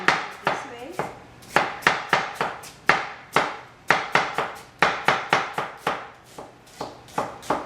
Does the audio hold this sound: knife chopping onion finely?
yes